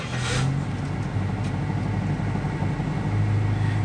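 A car engine, part of a car converted into a home, idles to run the air conditioning and cool the cabin, giving a steady, close, continuous low hum with no voices.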